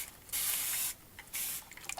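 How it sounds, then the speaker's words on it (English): A spray bottle misting watercolor paints: two distinct hissing sprays, the first longer and the second shorter, followed by faint drips and small clicks, close and clear. "and spray your paints."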